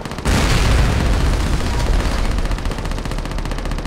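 Sustained gunfire and explosions from Call of Duty: Modern Warfare 3, mission "Vendetta": a loud, dense barrage of rapid shots and booming impacts with heavy bass, continuous after a brief lead-in, no voices.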